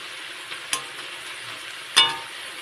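Bottle gourd is added and stirred into frying shrimp, a low, quiet sizzle broken by a couple of sharp utensil clacks against the pan.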